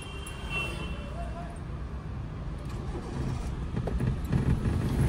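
A car idles with a low, steady engine rumble during a driving lesson, the hum growing slightly firmer near the end while an instructor's voice carries over it.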